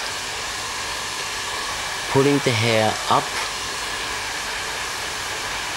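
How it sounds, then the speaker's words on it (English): A strong handheld blow dryer fitted with a nozzle, used with a vent brush on hair during salon styling, gives a loud, steady roar through the whole stretch, with a person briefly talking over it midway. "I'm blow drying the hair now here with a strong hand blow dryer, using the nozzle and the vent brush"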